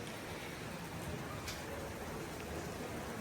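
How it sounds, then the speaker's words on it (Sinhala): Heavy rain pours steadily in the Troodos Mountains of Cyprus, a dense, even hiss of falling water with no break, fairly faint overall. "නමුත් හොඳටම මේ වහිනවා"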